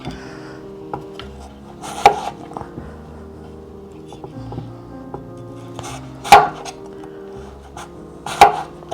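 A knife slices peeled fresh potatoes into elongated fries on a board, giving sharp, close chops at irregular intervals with quieter scraping and handling between them.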